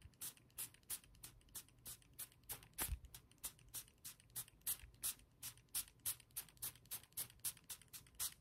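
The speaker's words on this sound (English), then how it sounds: "I'm going to spray the cotton round with my face wash and then rub it all over your face" A spray bottle of face wash is pumped onto a cotton round again and again in a quiet setting, about two dozen crisp, close hissing spritzes in a steady rhythm with short gaps and no talk.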